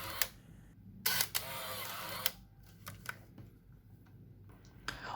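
Vintage Yashica film camera built before 1990, its shutter button pressed several times, giving sharp mechanical clicks and a couple of longer whirring bursts, close and alone in a quiet room.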